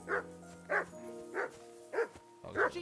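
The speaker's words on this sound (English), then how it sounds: "Jesus, Henry, that barking's driving me nuts." A dog in the medieval game Kingdom Come: Deliverance 2 barks five times in an even rhythm, close and clear, each short woof separated by brief pauses.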